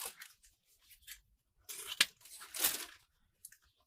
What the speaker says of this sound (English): I like to get a length of ribbon. I'm going to cut this one about 20 inches.